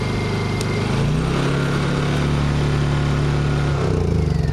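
A Honda super quiet portable generator with a Companion unit idles on economy throttle at about quarter load, giving a steady, even engine drone with a low hum that stays constant and close throughout.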